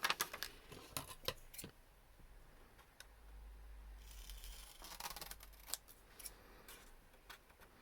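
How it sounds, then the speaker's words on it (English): Scissors snipping the corners of a handmade paper envelope for a junk journal: a series of crisp, close snips, some in quick clusters and others spaced apart, with a faint background hum. "we're going to do some snipping now"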